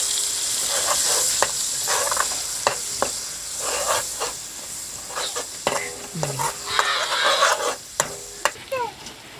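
Ground spice paste frying in hot oil in a pan while a utensil stirs and scrapes it, giving a bright hissing sizzle with scattered metallic clinks and no talking.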